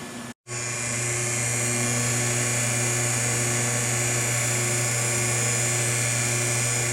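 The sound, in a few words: GAST rotary vane pump blower spinning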